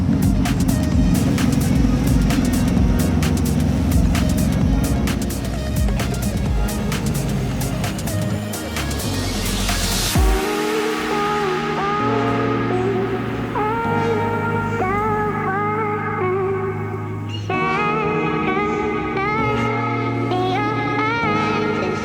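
A Porsche 963 Hypercar engine roars loudly and steadily close by on track during a practice session for several seconds, then fades out as music takes over.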